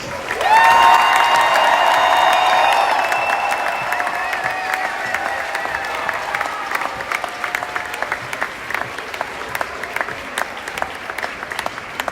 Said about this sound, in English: one more big round of applause for all of our cancer heroes